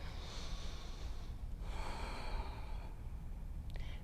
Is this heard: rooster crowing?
no